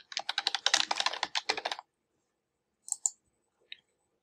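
Rapid typing on a computer keyboard, a burst of quick close keystrokes lasting under two seconds, then a pause and a couple of sharp mouse clicks.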